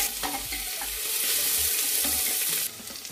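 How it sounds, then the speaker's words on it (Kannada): Onions and curry leaves fry in hot oil, a steady close sizzle broken by brisk stirring and scraping of a spoon against the pan. "ಈಗ ಇದು ಲೈಟ್ ಬ್ರೌನ್ ಕಲರ್ ಆಗೋವರೆಗೂ ನಾವು ಫ್ರೈ ಮಾಡ್ಕೊಳ್ಳೋಣ"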